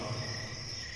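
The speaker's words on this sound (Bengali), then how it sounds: "ঝিঝি ডাকে," Crickets chirp at night in a soft, continuous trill that stays steady and faint, with no voices.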